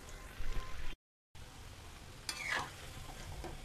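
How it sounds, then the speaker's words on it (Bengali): Semolina pakoras fry in oil over a medium-high flame, a close, steady sizzle broken by a short silent gap, with a brief burst of louder crackling partway through. "পকোড়াগুলোকে এখন আমি মিডিয়াম টু হাই ফ্লেমে ভেজে নেবো।"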